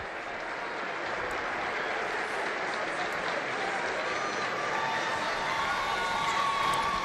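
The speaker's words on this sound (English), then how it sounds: "Fans applauding their Viking squad as they head towards the sideline." A crowd at a high school football section final claps steadily and continuously, a broad wash of applause with scattered cheers mixed in, sustained throughout.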